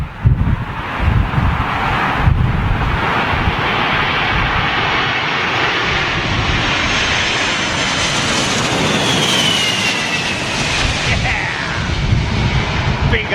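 Boeing 747 powered by Rolls-Royce RB211 engines landing at London Heathrow in strong storm winds, a loud, steady jet roar mixed with gusting wind noise that swells slightly mid-pass, without any speech.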